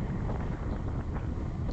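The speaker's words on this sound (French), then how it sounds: "Le vent me secouait de tous les côtés. C'était un vent tournant." Wind buffets a cyclist riding in rain during a 192 km sportive race, a constant loud rushing roar against the microphone with gusty swells throughout.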